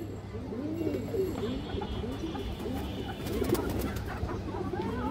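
Several caged pigeons, including a female, coo in overlapping rolling, wavering calls nearby, a steady soft chorus with faint background hiss.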